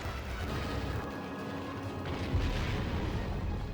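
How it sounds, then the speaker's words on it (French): A deep, rumbling cannonball firing in the video game Monster Hunter Portable 3rd sounds over a dense, steady backdrop of low noise, with a heavier thud midway through. "on va remettre un boulet de canon"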